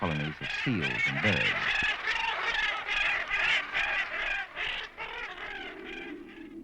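Seal and seabird colonies on Namibia's Namib coast, a loud, dense chorus of honking, barking and squawking calls from many animals at once, continuous and close.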